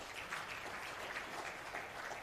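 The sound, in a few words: audience applauding the presenter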